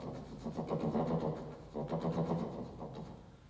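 A voice imitates a chugging diesel boat engine, two throaty rhythmic bursts separated by a short pause.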